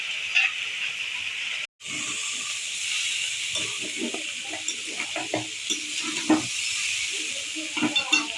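Fish frying in a pan for a home-cooked Bengali meal, a steady soft sizzle and hiss running throughout with occasional stirring scrapes and clinks, plus a brief dropout early on; someone speaks quietly now and then.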